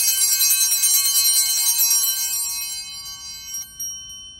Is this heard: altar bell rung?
yes